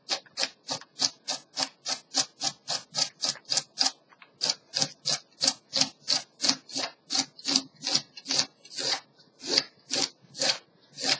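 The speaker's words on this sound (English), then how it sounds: "We'll just cut up some more carrots here." A knife chops through carrots on a board in fast, steady strokes, around twenty-five sharp, close cuts with one brief pause partway, no talking.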